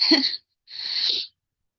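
Two sneezes from one person in quick succession, a sharp close burst followed by a slightly longer second one, then silence.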